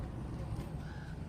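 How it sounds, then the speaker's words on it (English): A single crow caws faintly in the distance over a low, steady outdoor rumble at Bryce Canyon National Park. "you guys hear that crow calling? It's right there."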